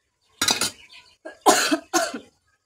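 Three or four harsh, dry coughs from a person with a sore throat and cold, close and loud, in quick bursts separated by brief pauses in a quiet room.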